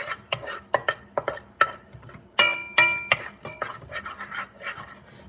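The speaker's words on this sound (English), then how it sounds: "So all I'm doing is just moving my onions around." A spoon scrapes and knocks repeatedly against a cooking pot as onions are stirred in oil for chicken curry, a close series of irregular clinks and scrapes with no sizzle.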